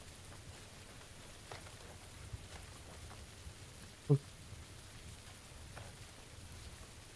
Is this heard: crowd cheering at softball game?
no